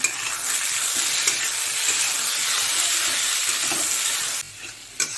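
Chopped tomato and slit green chillies fry in hot oil with ginger-garlic spices in a pan, a steady close sizzle and hiss with occasional stirring scrapes, cut off near the end before a final clack.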